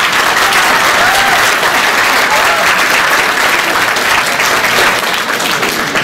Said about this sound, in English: the next thing you need to do is applaud Debbie Hirschman